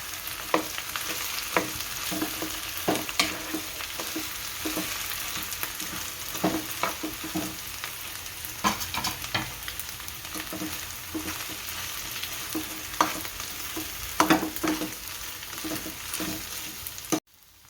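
Grated potatoes frying and being stirred in a pan, a steady close sizzle with repeated scraping stir strokes throughout, no talking.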